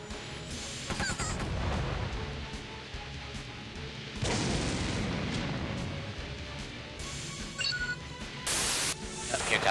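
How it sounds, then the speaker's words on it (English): Tank cannon fire and battlefield noise from the game War of the Human Tanks, a dense rumbling din with several sharp bursts and a loud blast near the end, no voices over it. "Just take a quick shot here to take care of her."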